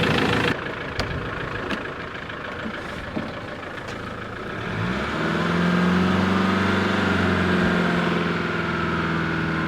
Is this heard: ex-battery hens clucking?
no